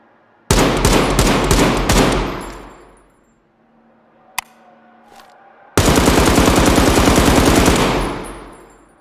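Full-auto gunfire from a rifle in the game Incursion Red River's shooting range: a loud rapid burst of about a second and a half, a quiet gap with a single click, then a second sustained burst of roughly three seconds.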